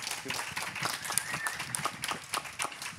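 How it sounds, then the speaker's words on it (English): Light audience applause at a panel discussion meetup in Brno, scattered hand claps from a modest crowd, fairly faint and slightly uneven in rhythm. "applause for him, please"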